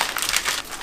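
Crinkly plastic packaging is pulled open at close range, a short burst of crackling and rustling that ends with a soft thump.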